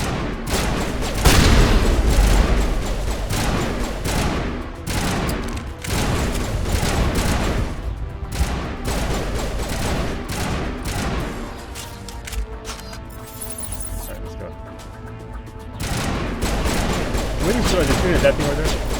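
Enemy gunfire in the video game Mass Effect, dense rapid volleys and booming shots rattling on and off, easing briefly before picking up again, with someone talking over it.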